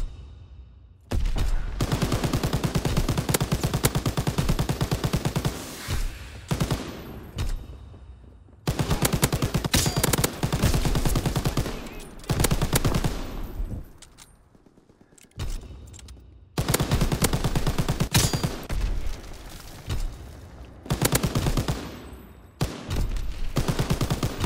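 Long bursts of machine gun fire from an MG nest in a video game, loud and close, rattling in sustained volleys broken by short pauses.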